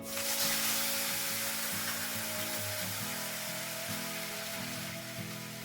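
Onion paste sizzles in hot oil with spices for a Bengali prawn malai curry, a steady close broadband hiss lasting throughout with a tonal backing underneath, fading slightly at the end.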